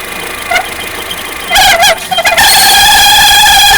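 A Kia engine runs with a shrill alternator whistle that rises and warbles, settling into a loud, sustained high whine over the rumbling idle after a brief, wavering start.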